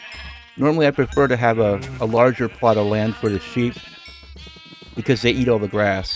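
Sheep in Minecraft bleat repeatedly, a series of loud, close, wavering baas in quick bursts, mixed in with someone talking.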